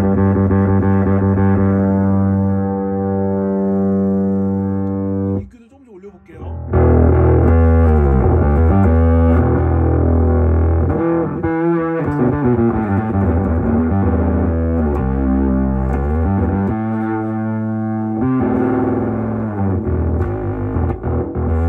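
Electric guitar run through an Okko Holy Grit overdrive pedal with the fuzz raised, giving loud saturated sustained chords and riffs with one brief drop near the start and dense distorted tone throughout.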